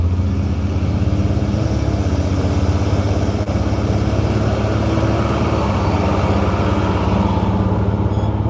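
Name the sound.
car engine revving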